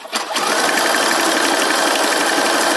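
A sewing machine stitching fabric with stretched elastic for a pair of pajama pants, running as a fast, steady mechanical whir close to the microphone from start to finish, with no talking.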